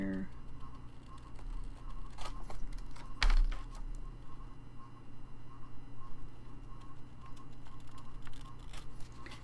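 Scissors snip through vintage music paper in short, close clicks and crisp cuts, a few scattered trims set against quiet room tone with faint background voices.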